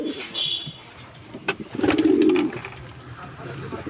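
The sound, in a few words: pigeons cooing as the pigeon house is opened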